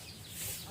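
A chicken gives a brief cluck over a busy, noisy outdoor background.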